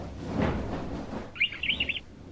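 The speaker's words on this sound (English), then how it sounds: "The male canary sings." A male canary sings a short, bright run of rapid chirping notes, close and clear, following a moment of soft background noise.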